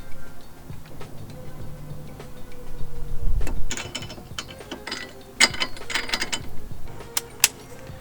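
A ratchet tightening wheel nuts onto old studs fitted with wheel spacers on a car, rapid clicking bursts in several short runs with pauses between, close and crisp, no talk.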